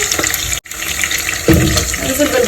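Onions tipped into a pan of browned beef for a home-style stewed kebab, bringing a sudden loud sizzle that stays steady and close, following an earlier constant frying hiss.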